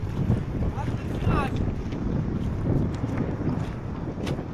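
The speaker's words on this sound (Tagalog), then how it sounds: "Medyo malakas ang hangin dito." Strong wind blows outdoors, buffeting the microphone with a constant low roar, while voices talk over it intermittently.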